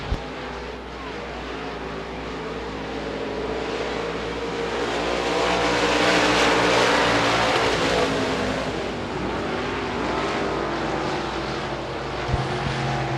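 Limited modified race cars roar around the dirt oval at Devils Bowl Speedway, a loud sustained engine drone that swells as the pack passes close and then eases off, with no voices over it.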